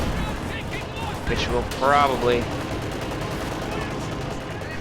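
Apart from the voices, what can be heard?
gunfire and shots in a World War II strategy video game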